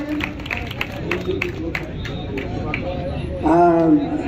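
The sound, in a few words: audience applause at Holika Dahan event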